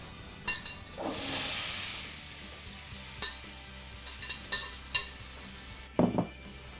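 Vegetables tipped back into a hot pan to heat through give a soft sizzle with stirring, broken by scattered clinks and scrapes and a louder clatter near the end.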